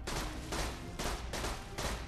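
Rapid bursts of gunfire from the video game Borderlands 2 come in about four close, loud volleys within two seconds, with no talk.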